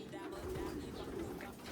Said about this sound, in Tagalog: So, ito yung ibon mga kalapatids.